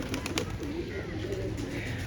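Pigeons coo softly against a constant wash of rain or running water while they drink, the low calls rising and falling over two seconds.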